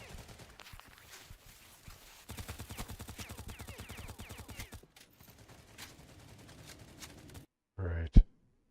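Patrols in STALCRAFT: X open up with rapid bursts of automatic gunfire, some rattling volleys loud and others more distant, with voices faintly underneath and a final sharp loud shot.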